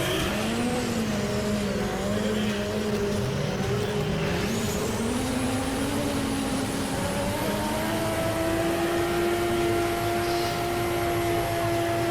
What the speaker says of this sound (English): Luke Barker just warming up the tyres on his 350 Z